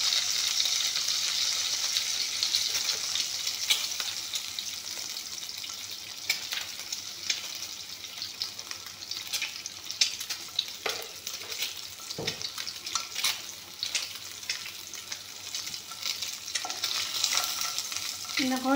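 Sliced eggs fry in a pan with coloured spice powder for ghugni, a steady close sizzle and crackle that rises and falls as they are stirred, with a few clinks and no voices.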